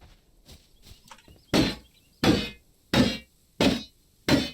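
Objects smashed apart for materials in the survival game Dysmantle: five heavy, evenly spaced thumping blows, loud and close, following a few softer knocks, with no voices.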